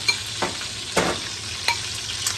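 Chorizo hitting a hot pan with sofrito for beer chicken and rice, giving a steady close sizzle broken by a few sharp stirring and scraping clinks.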